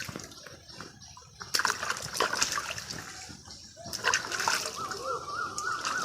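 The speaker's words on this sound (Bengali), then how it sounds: "একটু ময়লা আছে সেজন্য খুব সুন্দরভাবে ধুয়ে নিচ্ছি।" Water splashes and sloshes as aloe vera leaves are washed in a pond, with irregular close splashes and trickles rising in the second half.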